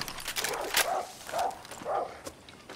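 Dogs in the Far Cry 6 video game bark repeatedly in short spaced yelps, three or four barks at a steady rhythm, moderately loud over a busy game background.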